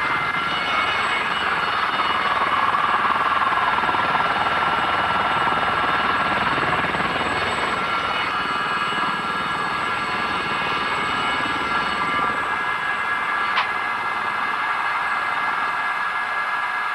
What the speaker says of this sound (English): These are anxious moments for Jimmy, alone in charge of a million-pound helicopter for the first time.